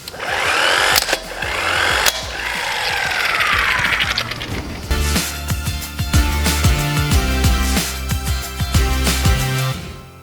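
Wheel nuts on an off-road vehicle being tightened one after another, with a rapid mechanical ratcheting whir in bursts, close and fairly loud, followed by sharper clicks and knocks.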